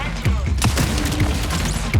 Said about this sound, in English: The arm cannon for Vandal unfolds